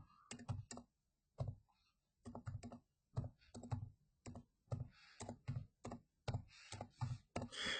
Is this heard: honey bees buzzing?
no